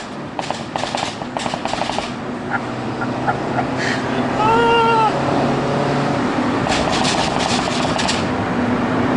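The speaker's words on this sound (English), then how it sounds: "I've never heard a car pop and bang like that before." A Mini JCW Roadster's 270 bhp engine revs and roars nearby, its exhaust crackling with rapid pops and bangs in bursts, with a brief honking, quack-like tone mid-way.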